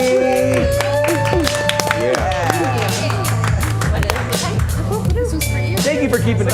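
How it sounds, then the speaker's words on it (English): Audience applause at a comedy game show for three contestants: dense clapping and crowd noise throughout, mixed with cheering voices and a host talking over it. "Give that applause going for Betsy, Olivia, and Maddie."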